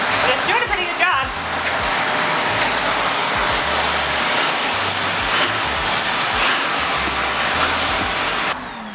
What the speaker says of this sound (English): And then it's just using the wind power from the vacuum suction.